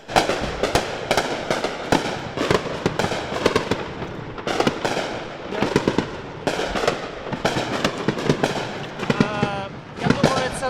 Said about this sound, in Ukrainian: наші по безпілотнику стріляють, тому краще піти в укриття